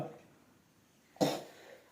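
A single short cough rings out close by after a quiet moment, preceded by a brief murmur of voice.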